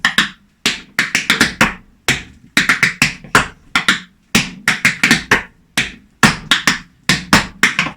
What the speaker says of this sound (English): Heel stomp. tempo step, scuff, pick up, step, half tempo step, scuff.